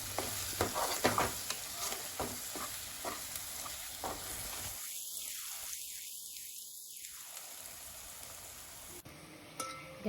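A spoon stirs and scrapes through mutton masala paste mixed with salt, turmeric and chutney, a close run of uneven clinks and wet scraping over a light sizzle, thinning out toward the end.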